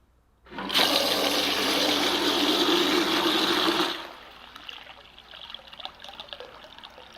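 A solid-state sump pump switch dropped into water, giving a loud sustained rush of splashing and churning water for about three seconds before settling into a quieter trickle and drip.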